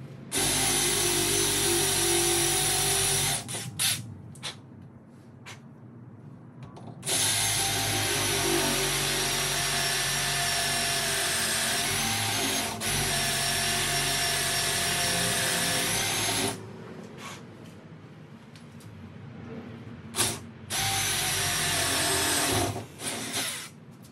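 A power drill whines loudly as a hole saw cuts into a door, running in long bursts with short pauses between, close up and without talk.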